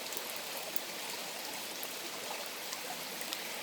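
A river flows steadily beside a tree-sheltered spot while rain falls, making a soft, continuous broadband rush with faint patter of drops and no voices.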